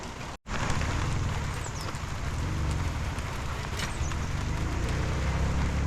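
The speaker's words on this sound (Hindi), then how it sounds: "हल्की हल्की बारिश हो रही है" Steady broadband hiss of light rain falling, continuous and even throughout, with a brief dropout near the start.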